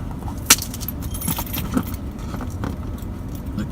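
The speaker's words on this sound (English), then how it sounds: "Just using keys to get this open." Keys jangling and scraping as they are used to slit open a package, with a sharp metallic clink early and soft scratching over steady low road-vehicle rumble.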